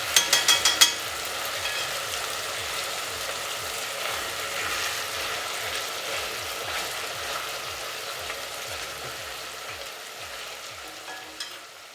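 Pieces of goat meat browning in a pot for Jamaican curry goat, giving a steady close sizzle and frying crackle with a few sharp clatters at the start and occasional stirring scrapes.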